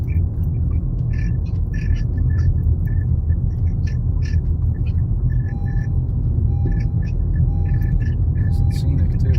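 A truck rolling along a rough, bumpy rural road, with a constant low rumble of engine and tires, steady throughout, punctuated by faint squeaks and rattles from the cab and body.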